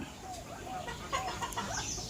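A few faint, soft clucking calls from a golden pheasant in its enclosure, short chirpy notes scattered over two seconds against quiet background noise.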